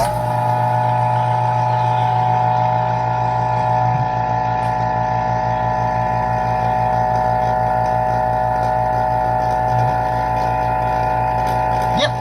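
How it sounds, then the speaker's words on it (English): A vacuum chamber pump degassing silicone mold material drones loudly and continuously, with a constant hum and a faint rhythmic pulsing throughout. "we're going to vacuum chamber it now"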